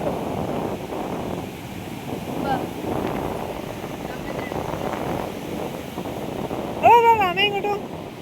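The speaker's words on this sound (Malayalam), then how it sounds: "വല്യ തിരമാല വരും" Steady low rumble of surf and wind across the whole stretch, with a brief burst of higher chattering near the end.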